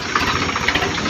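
A Swaraj 735 tractor engine runs close by, hauling sand, a loud continuous rattling diesel drone with a slightly knocking, pulsing rhythm throughout.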